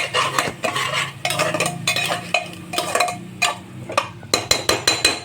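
Tomatoes are stirred into pasta gravy in a pressure cooker, with a metal spoon scraping and clinking against the pot in quick irregular strokes, ending in a run of sharp taps on the rim, close and clear.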